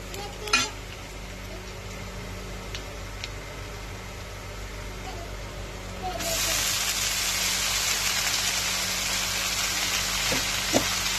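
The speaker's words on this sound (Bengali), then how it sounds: "পেঁয়াজটা ভাজা হয়ে গেছে, আর শাকটা দিয়ে দেবো" Leafy greens hit hot oil with fried onions in a pan: after some quiet stirring and clinks, a loud, broad sizzle bursts in midway and keeps hissing steadily to the end.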